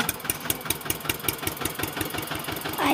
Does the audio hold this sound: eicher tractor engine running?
yes